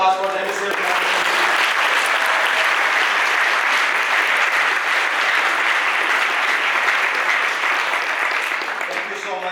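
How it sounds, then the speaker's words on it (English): Sustained, dense audience applause at an MSA night event, a close, continuous wash of clapping from a large crowd that lasts the whole stretch. "Can we have a round of applause for the MSA Organizing Committee?"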